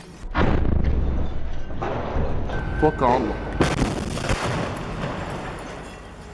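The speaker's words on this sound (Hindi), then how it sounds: "इसके बाद ये लड़ाका उस पर रॉकेट फायर कर देता है जिसमें जबरदस्त ब्लास्ट होता है" A rocket fired at an Israeli military vehicle bursts in a loud blast, with a sharp boom and roaring rumble followed by crackling debris and further impacts, all close and powerful and heard without talk.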